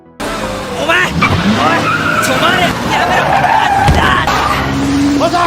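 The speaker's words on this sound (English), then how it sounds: "a truck suddenly crashes into Karyu School's gate" Anime scene of a truck crashing into a school gate: loud tire screeching and skidding engine roar fill the clip, with a crunching impact and dramatic noise throughout.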